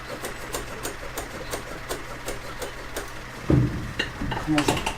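A Peugeot J9 van engine tries to restart, cranking with a rapid mechanical chatter before catching and rising in a rough rev, with someone speaking over it.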